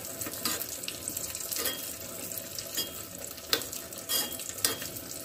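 Raisins frying in a pan while carrot halwa is made, a steady soft sizzle with stirring scrapes and a few sharper clinks, close up and without talk.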